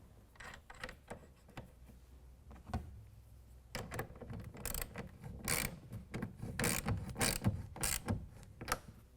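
A ratchet clicks in short, uneven bursts while tightening a clamp onto the bed rail of a truck's Access LoMax tonneau cover, growing busier and louder toward the end.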